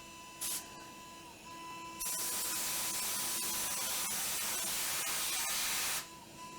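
A CNC machine mills a contour while machining parts for a precision Z axis upgrade, producing a loud, steady hiss that starts abruptly, holds for about four seconds and then cuts off, over a faint constant whine.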